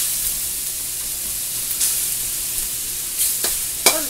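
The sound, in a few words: chicken frying and sizzling in a pan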